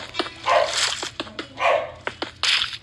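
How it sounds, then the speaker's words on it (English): Dog barking indoors, a few sharp barks spaced through the moment with a short whimpering yip between them, moderately close and with no talk. "Sorry if my dog is barking."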